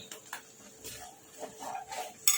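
A spoon scrapes and clinks in a pot while rice flour and semolina batter is stirred smooth, giving scattered soft knocks and scrapes, fairly quiet and without speech.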